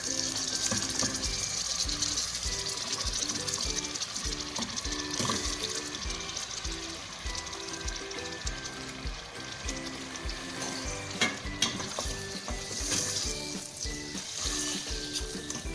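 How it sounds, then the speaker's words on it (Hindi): Marinated chicken coated in coarse crushed black pepper fries over fairly high heat in oil, a dense, continuous sizzle and spatter with light scraping and clinks, close and steady, no voices. "ये शामिल करके हम इस चिकन को थोड़ी तेज़ आंच में फ्राई करेंगे।"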